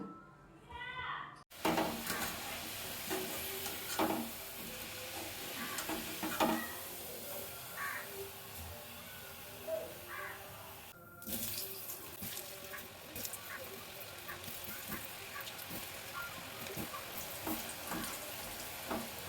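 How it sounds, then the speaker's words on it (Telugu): Potato pieces for aloo manchurian sizzle in hot oil on a high flame, a steady close crackle with occasional stirring clatter and a brief pause, with no speech over it. "సో ఇప్పుడు ఫ్రై చేసేద్దాం"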